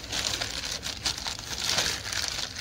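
Close crinkling and crumpling of insulation material being folded over by hand, a steady rustling texture with small surges, no talking.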